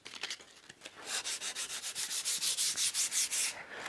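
Rhythmic hand sanding on old table-top wood for a guitar, steady back-and-forth rasping strokes that speed up and grow louder, close by with no voices.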